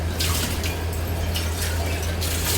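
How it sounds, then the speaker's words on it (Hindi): Water runs steadily into a pot for tea in a home kitchen, a continuous splashing pour heard close up without any talking. "पहले ना चाय का पानी रख लेते हैं।"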